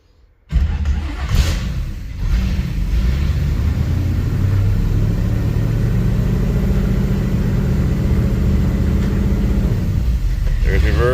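A 1951 Mercury with a swapped engine idles steadily after starting, a close, constant mid-pitched rumble while a voice talks over it during a transmission test.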